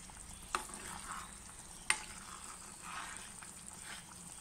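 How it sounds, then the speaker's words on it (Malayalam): A spoon stirring mackerel curry as it boils in a pan, soft scraping swirls and quiet bubbling, with two sharp clicks of utensil against the pan; close and fairly faint, without talk. "നമുക്ക് പതുക്കെ ഒന്ന് ഇളക്കി കൊടുക്കാം"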